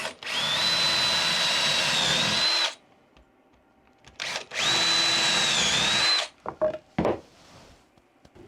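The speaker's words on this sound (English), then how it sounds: "I can use that as a guide to line up a 10mm bit and drill the rest of the way through" A power drill fitted with a 10mm bit bores through metal along a pilot hole, two loud sustained bursts of whining, grinding drilling separated by a pause, followed by a few short clunks and taps.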